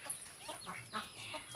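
A chicken clucks quietly at a family home in Rangia, several short soft clucks in quick succession against a calm background.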